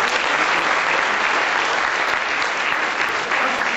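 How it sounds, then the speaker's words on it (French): Steady, dense audience applause at a round-table conference session, continuous and even for several seconds with no speech. "vous devez vous applaudir franchement"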